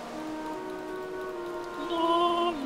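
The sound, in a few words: rain falling in the video game Minecraft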